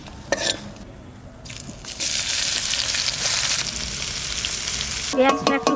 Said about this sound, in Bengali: পেঁয়াজটা একটু ভাজা ভাজা করে নিলাম